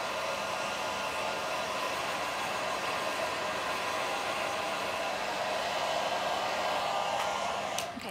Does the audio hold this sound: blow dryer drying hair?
yes